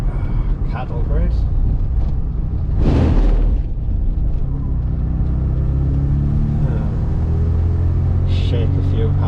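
A 1982 Ford Escort XR3 in need of a new exhaust rolls over a cattle grid, a sudden loud rattling thump about three seconds in that stands out over the steady low engine drone inside the car.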